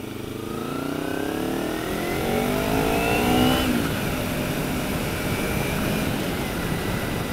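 A massive truck roars past on the road beside a Kawasaki ZX6R motorcycle, its loud engine rumble swelling to a peak and a rising whine sweeping by before settling into a steady broad road noise.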